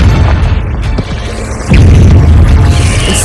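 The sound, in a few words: Confringo spell blast from Hogwarts Legacy video game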